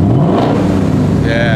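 A deep, throaty V8 engine of a 2024 Ford Mustang Dark Horse revs loudly up close, with a brief spoken word partway through.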